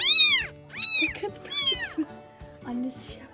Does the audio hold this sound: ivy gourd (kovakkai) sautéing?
no